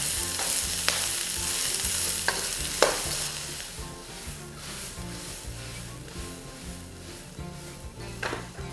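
Onion, spring onion and capsicum stir-fried in a pan for a beef stir fry, with a steady sizzle under repeated knocks and scrapes of a spatula, close and busy, no talking.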